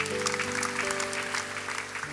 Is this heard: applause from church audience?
yes